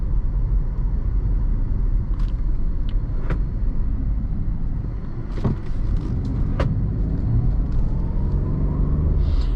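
A 2012 Jeep Liberty SUV heard from inside as it drives and accelerates, with a steady low engine and road rumble and a few sharp cabin clicks and knocks, and no one talking.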